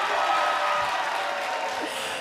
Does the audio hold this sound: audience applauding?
yes